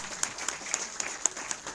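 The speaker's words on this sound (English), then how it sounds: "I think we must clap for him." At a live college innovation talk, an audience gives a few sharp, evenly spaced claps, about one every quarter second, over a faint hiss of background noise. There are no voices.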